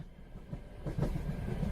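A passenger train rolling along in the game Sweet Dreams, a low rumbling ride with soft rhythmic rail thumps that swell louder partway through, heard alone without talking.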